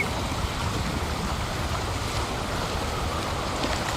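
Steady, dense rush of waterfall water in the video game Wuthering Waves, loud and continuous without a break.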